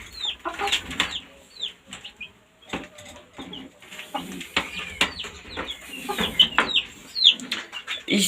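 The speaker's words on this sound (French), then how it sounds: "Après on a la poule et son poussin." A hen and her chick in a backyard poultry run, with repeated clucks and high peeping calls coming in irregular bursts, close by and fairly loud, plus occasional wing flaps.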